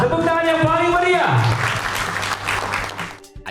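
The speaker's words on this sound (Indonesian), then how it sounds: "Tepuk tangan yang paling meriah." Applause from an audience at the 21st Selular Award 2024, a telecom and ICT industry awards ceremony in Jakarta, rising as a tonal musical or announcer sound fades out and then filling the room as a dense, steady clapping wash.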